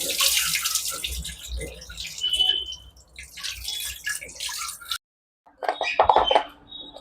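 Tap water running and splashing while raw chicken is washed by hand in a kitchen sink, loud gushing in uneven bursts with a brief silent gap before the flow resumes.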